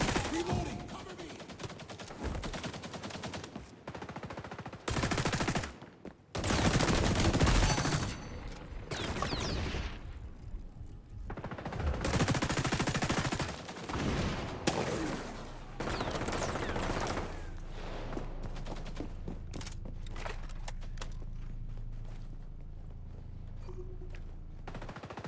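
Gunfire in the XDefiant shooter, with loud bursts of automatic fire and single shots coming in irregular volleys and quieter gaps, plus some game voice callouts and footsteps in between.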